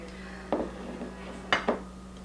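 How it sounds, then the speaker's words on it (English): A Rada whisk beats eggs in a bowl, giving a few sharp clinks of metal against the bowl spread over two seconds, close and moderately loud against a quiet kitchen hum. "So I'm going to beat them to blend."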